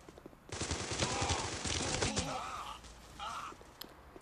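Bursts of automatic rifle fire in the mobile shooter game Guns of Boom, rapid cracking shots that are loud for about two seconds and then fade into quieter game effects, with no speech.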